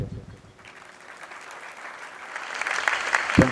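Applause from the audience at a religious discourse: faint and thin at first, then swelling into fuller, louder clapping toward the end.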